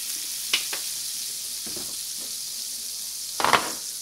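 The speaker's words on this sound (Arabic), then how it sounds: "ودابا غندوز باش نقلي بطاطا، غادي نزيد شوية من الزبدة." Potatoes fry in butter in a pan, giving a soft, steady sizzle with a few brief clinks and stirring scrapes, the loudest near the end.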